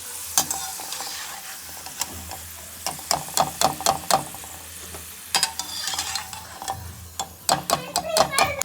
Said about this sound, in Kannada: ಗೋಲ್ಡನ್ ಕಲರ್ ಆಗೋ ತನಕ ಫ್ರೈ ಮಾಡ್ಕೊಬೇಕಾಗುತ್ತೆ ಇವಾಗ ಫ್ರೈ ಆಗಿದೆ ನೋಡಿ